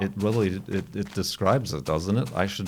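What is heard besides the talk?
None of the usual background noises is heard.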